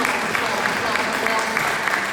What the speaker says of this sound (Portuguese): Eu quero que você aplaude a palavra de Deus. Aplaude, aplaude, aplaude, aplaude.